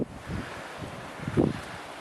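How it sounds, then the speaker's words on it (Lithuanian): Gusty wind blows on a coast near Spain, buffeting the microphone in uneven low rushes with a stronger gust near the end and no speech. "Nesvarbu vėjas."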